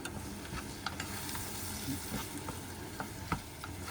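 Chopped onion frying in a pan at a Texas-style campsite cooking setup, a steady sizzle with scattered spatters and stirring clicks, close and fairly quiet.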